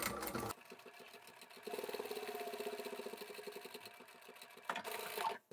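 A sewing machine runs in rapid, even stitching bursts close by while it sews scrap fabric coin pouches, with short pauses between runs.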